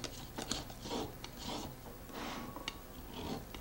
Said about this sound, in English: Now we want to get these sharp edges off just like we did before. We'll trim those off with our knife.